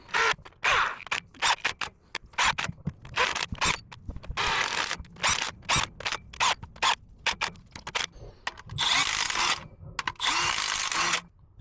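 A ratchet runs in rocker shaft bolts on an MX-13 engine in rapid bursts of clicking, with short pauses between runs, close and fairly loud.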